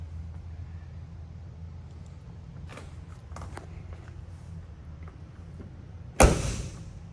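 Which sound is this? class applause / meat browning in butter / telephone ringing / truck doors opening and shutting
truck doors opening and shutting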